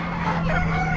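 A Polish rooster at an Amish animal auction gives a short, loud crow close by, over a constant low hum from the barn.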